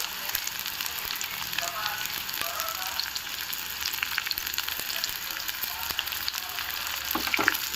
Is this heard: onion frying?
yes